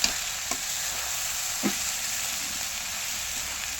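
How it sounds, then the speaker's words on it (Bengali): Flattened rice pulao made with Gobindobhog rice is stirred in a pan, a steady close sizzle with a few sharp scrapes and clinks of the spoon. No one speaks. "নাড়াচাড়া করে নিচ্ছি"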